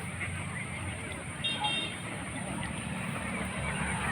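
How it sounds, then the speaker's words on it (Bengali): A large flock of about 2000 farm-raised ducks approaches, giving scattered honking quacks over a steady outdoor background hum that stays at a moderate level throughout. "বিশাল হাঁস বাহিনী"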